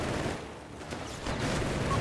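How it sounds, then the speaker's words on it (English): Battle noise from a Company of Heroes 3 match, with rattling gunfire and scattered explosions mixed together at moderate, fairly distant loudness, with no talk. "Grenades, explosions. A lot of firing here."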